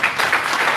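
Audience applause at a live event, a brief burst of steady clapping from a crowd.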